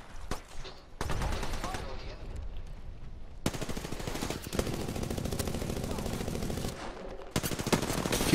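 Rapid automatic gunfire in a video game firefight, loud bursts of shots with short pauses between them, sustained across most of the span.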